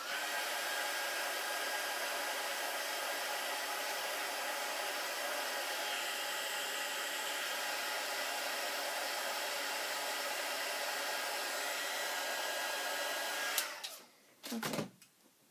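A heat tool blows steadily and loudly, drying paper for a handmade paper bag journal, its even whoosh running alone for most of the stretch before cutting off abruptly, followed by a few brief knocks and rustles.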